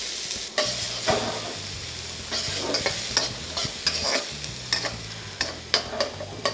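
Onions stir-fry in butter in a pan, a gentle continuous sizzle broken by repeated scraping stirs at an uneven rhythm, close up and without voices.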